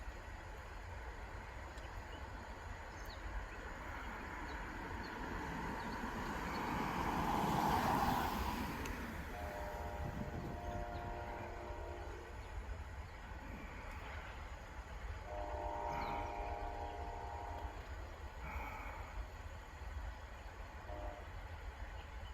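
A Union Pacific freight train rolls past at a distance with a distributed power locomotive mid-train, its steady rumble of wagons swelling and fading, with horn blasts sounding twice along the way.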